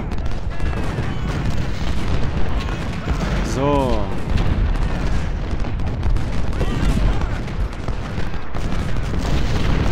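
Cannon artillery fire in the Civil War strategy game Ultimate General: Civil War, at the Battle of Chancellorsville, a dense continuous rumble of booming volleys and gunfire, with someone briefly speaking over it.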